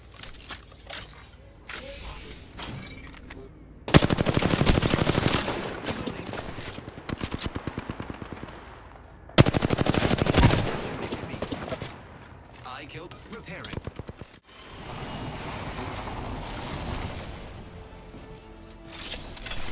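Video game gunfire erupts in two heavy, sustained bursts of rapid automatic shots, loud and close, separated by quieter stretches with scattered single cracks and background game ambience.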